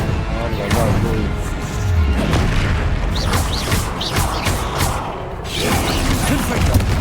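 Spell blasts from Confringo in a Harry Potter video game, booming and crashing over a dense, continuous game soundtrack, with a few louder thuds spread through the stretch.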